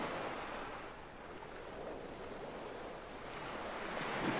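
Steady ocean surf washing in from the video game Static Dread, a continuous broadband roar with slow swells and some wind noise, no voices.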